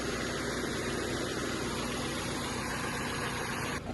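A 2012 Kia Cerato engine idles steadily at a moderate, even level, with a faint hiss over the low rumble and no talking.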